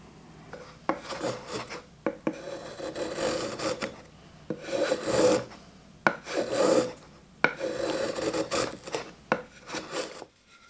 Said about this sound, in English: this thing is making some nice shavings on this block.